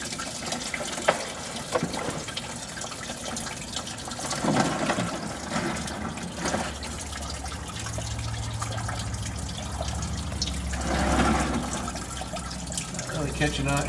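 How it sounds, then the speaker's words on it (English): Engine coolant trickling and draining from a leak above the starter on a Duramax diesel, a continuous liquid splashing and gushing with fluctuating flow, heard under intermittent talk and handling noises. "I get it to quit draining out because it's leaking, running down my arm."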